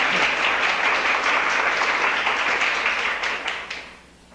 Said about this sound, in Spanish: como ustedes están aplaudiendo